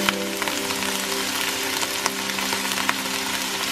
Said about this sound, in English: And then cook the onions until they turn brown.